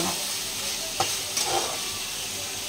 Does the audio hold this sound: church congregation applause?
no